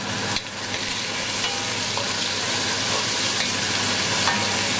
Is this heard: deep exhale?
no